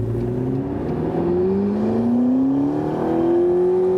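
A McLaren 650S Spider convertible with a 650 hp V8 accelerates hard, its engine note climbing steadily through a gear change with a loud, rising growl heard from inside the car.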